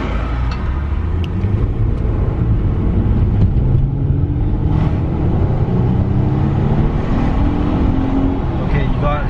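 A new Audi A5 revs up as it accelerates, its engine tone climbing steadily in pitch and holding loud and near throughout.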